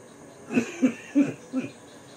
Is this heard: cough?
yes